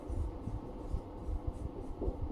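Writing on a surface while noting a soil-forming factor, a faint, steady scratching with small repeated strokes under a soft background hum, no talking.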